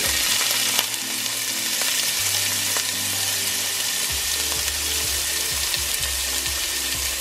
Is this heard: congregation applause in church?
no